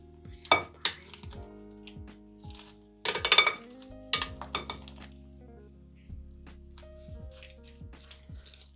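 A spoon mixes fruit pasta salad of macaroni and fruit in a bowl, giving irregular clinks and scrapes against the dish, with a couple of louder clustered knocks and softer stirring between.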